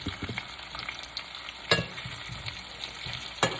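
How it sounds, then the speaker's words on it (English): Onions caramelizing with yellow squash in a hot pan sizzle steadily, broken by a few sharp stirring scrapes and clatters, close and fairly quiet with no voices. "Our onions are caramelizing."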